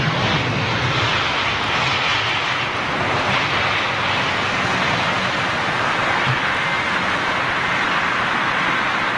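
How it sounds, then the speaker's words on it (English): A British Airways Airbus A380 airliner takes off at an airport, giving a loud, continuous jet roar that stays steady and broad throughout, with no voices heard. "BA 380 on takeoff"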